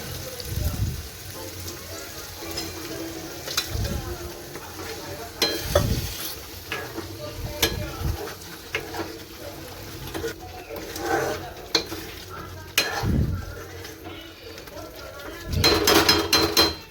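Paneer tikka masala cooking in a pan, with spoon stirring and scraping over a low sizzle, louder clatters recurring every few seconds, and someone talking at times over the cooking.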